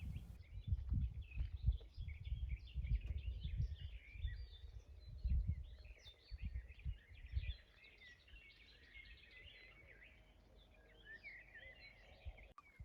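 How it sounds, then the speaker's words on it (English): Birds sing and chirp continuously in the evening on a quiet island in the Stockholm archipelago, bright overlapping calls that carry on throughout while low rumbling noise fills the first half and then fades. "the sound of birds in the evening sun."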